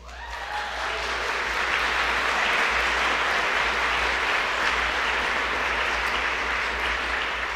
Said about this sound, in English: so stop applauding me